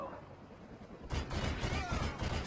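Gunfire from Call of Duty: Modern Warfare 2 multiplayer, quieter at first, then a dense, loud burst of rapid shots and blasts for the rest of the moment, with faint talk underneath.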